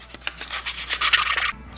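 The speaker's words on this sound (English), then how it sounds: "Back to sanding." Quick rhythmic scraping strokes of sandpaper rubbing on a wooden crankbait fishing lure, close up, speeding into a denser flurry before stopping abruptly.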